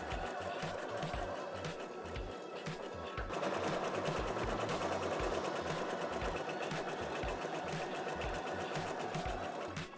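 A sewing machine stitches fabric for a simple hat, running steadily and close for the whole stretch with a rapid mechanical rattle, growing slightly louder partway through.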